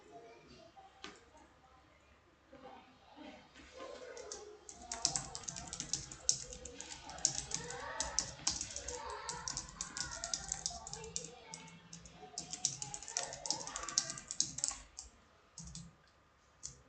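Steady keyboard typing clatters throughout, dense rapid keystrokes growing busier midway, with faint speech-like murmurs underneath.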